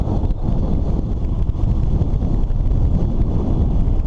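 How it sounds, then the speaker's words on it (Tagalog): Strong wind buffeting a microphone while cycling around a town plaza, a dense low rumble that roars steadily and close throughout. "Malakas pa rin yung hangin."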